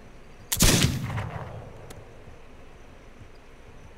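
A rifle fires once in the video game This Land Is My Land, giving one loud, close crack that trails off into a fading echo over a quiet background.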